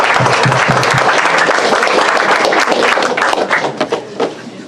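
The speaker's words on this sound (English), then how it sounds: "Let's give Dave a round of applause too" Loud applause from a crowd at a restaurant fundraiser, many hands clapping steadily before thinning out toward the end.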